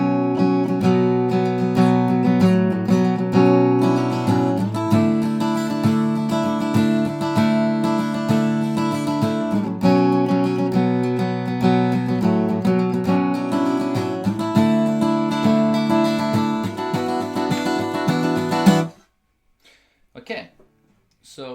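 Acoustic guitar plays a fingerpicked chapter of a song, with sustained ringing chords and melodic lines, steady and close for most of the stretch before it stops abruptly and brief faint sounds follow.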